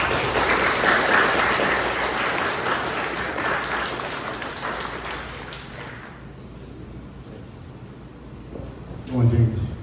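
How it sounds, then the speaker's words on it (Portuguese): Applause from a lecture audience honouring a professor at an inaugural philosophy class, a broad clapping wash that gradually thins and fades, followed by a voice starting to speak near the end. "gostaria de pedir uma salva de palmas ao professor Renato Lessa"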